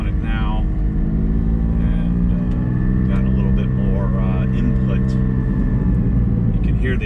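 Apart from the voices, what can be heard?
Porsche GT4 with Soul Performance over axle exhaust, driving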